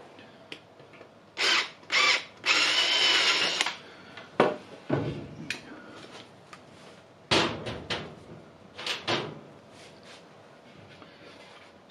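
Power drill opening out a hole for a 6mm screw in a storage build, heard in several short bursts of whirring, with a longer run near the start, separated by brief pauses and handling clatter.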